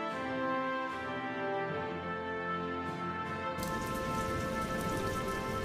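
Steady rain falls over the whole stretch, a dense close patter of drops on a surface that gets heavier and brighter partway through, with no voices.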